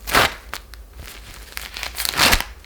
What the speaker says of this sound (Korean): 이 소리였지? 이 비닐 소리?